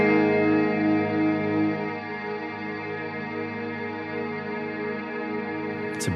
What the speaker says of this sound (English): a beautiful wash of reverb